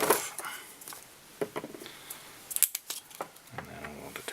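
Scissors snip tying thread while a salmon tube fly is tied, a few faint close cuts among quiet handling noises, no talk.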